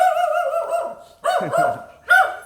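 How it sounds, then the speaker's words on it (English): Dogs barking close and loud: three strong barks, the first drawn out with a whining edge, the others in quick succession. "Oh, there's another dog here, that's why."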